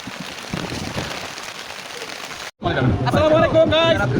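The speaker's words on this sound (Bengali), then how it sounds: "বৃষ্টি পড়তেছে" Rain falls on a plastic sheet held overhead during a trip to the Jhalakathi guava gardens near Barishal, a dense steady patter that cuts out briefly and then continues under people talking.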